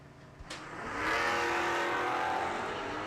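A 1955 Chevy launches off the line at a bracket drag race and roars down the strip, its engine rising sharply into a sustained loud, rasping wail that holds as the car pulls away.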